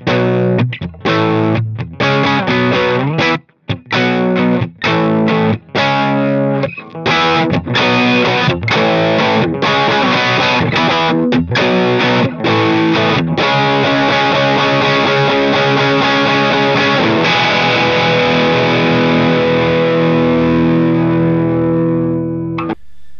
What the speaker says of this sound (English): I'll play the guitar first without the effect, without the pedal on, and then I'll kick in the overdrive